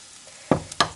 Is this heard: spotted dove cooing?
no